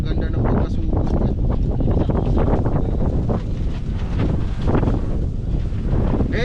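Strong gusty wind battering the microphone outdoors in stormy weather, a loud, continuous low roar with rough buffeting throughout, while people talk underneath.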